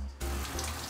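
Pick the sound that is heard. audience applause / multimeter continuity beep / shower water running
shower water running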